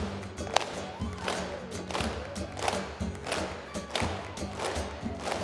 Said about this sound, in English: Quiet, muffled hand claps.